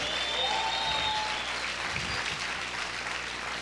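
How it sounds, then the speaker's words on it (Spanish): A church congregation applauds loudly, dense clapping filling the room at a steady level with a few faint voices and whistles mixed in. "¿Cuántos pueden aplaudir fuerte al Rey?"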